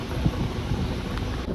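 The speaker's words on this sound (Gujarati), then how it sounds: "આ છે કુલર, ઠંડો પવન આવે છે।" An air cooler blowing cold air in a room gives a steady, close, whooshing rush of moving air with no voices.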